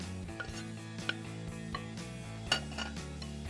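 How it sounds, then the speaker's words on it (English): A butter mixture with shallots, Parmesan and flavorings is beaten in a bowl, giving soft clinks and taps of a utensil against the bowl over a steady background hum, close and quiet, with no talking. "And beat the mixture until soft and creamy."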